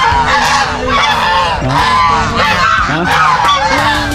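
A flock of geese on a farm honks loudly and continuously, many overlapping calls close by with no pauses.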